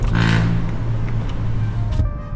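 Road noise from a GAC GS4 driven in the city with its windows open, a loud steady rumble and wind roar that swells briefly, then drops off quickly near the end as the windows close.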